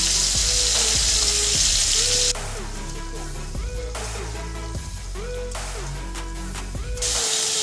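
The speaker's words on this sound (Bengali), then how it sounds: "তাতে কপিগুলো হালকাভাবে ভেজে নেব।" Cauliflower florets lightly frying in a little salted oil, a steady, close sizzle that is loud at first and then settles into a softer, continuous crackle, with no talking.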